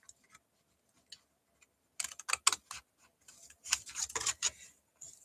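Scissors snipping through card stock to cut out pieces for a box card, a few faint snips early, then bursts of close, crisp cutting and crinkling paper.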